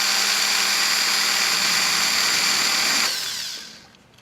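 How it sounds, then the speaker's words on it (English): Electric drill boring straight down into the rivet of a diecast toy car, a loud steady whine running continuously for about three seconds before spinning down and fading out. "So what we're going to do is just drill straight down."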